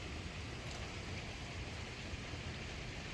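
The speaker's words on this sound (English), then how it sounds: "It is raining so hard I could hear it all the way through my headphones." Heavy rain pours down steadily and close by, a dense, unbroken hiss of drops with no voices or other sounds standing out.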